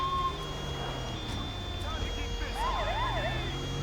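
Ambulance siren in the video game GTA V with the LSPDFR mod, a wailing tone rising and falling over a low engine and road rumble, fairly faint and distant, with a few sharper tones mixed in.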